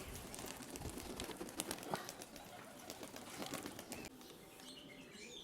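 A very young, just-fledged pigeon flaps its wings over a steady hiss, with soft flutters and faint chirps under low background noise.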